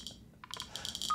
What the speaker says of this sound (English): Oh, the second beep.